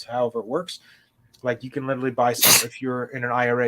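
A single sharp sneeze bursts out in the middle of a man's continuous speech, brief and close.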